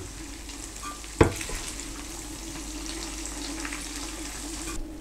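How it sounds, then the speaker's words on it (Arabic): Shawarma meat fries with spices in a pan, giving a steady close sizzle throughout, with one sharp clatter near the start. "برجع هيك بقليها شوي مع البهار"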